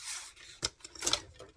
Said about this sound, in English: And use my little cutter here.